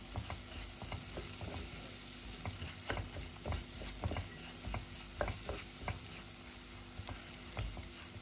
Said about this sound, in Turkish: pirincimi ekliyorum. Şöyle güzelce kavuruyorum şimdilikte.